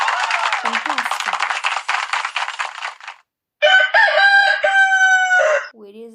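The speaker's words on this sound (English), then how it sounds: "Where is a rooster?" A rooster crows one full cock-a-doodle-doo, loud and close, right after a stretch of people talking, with a short pause between the talk and the crow.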